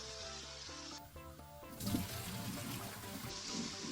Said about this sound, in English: Once pasta is cooked, add half cup of its water to the veggie pan, then drain it off.